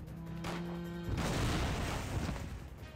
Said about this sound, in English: that's almost an instant kill as well, because that explosion, if you can get them when they're compact enough